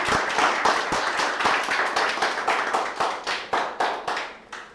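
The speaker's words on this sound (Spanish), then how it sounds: "Denle un aplauso, Ángel." An audience claps steadily together at a religious gathering, producing a dense, even patter of many hands that rises in rhythmic swells and holds loud for the whole stretch, with no voices over it.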